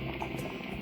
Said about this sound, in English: My soup is bubbling away